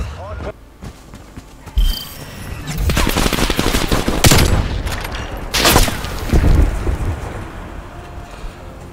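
Loud bursts of automatic gunfire from Call of Duty: Black Ops Cold War multiplayer come in rapid strings with brief gaps between them.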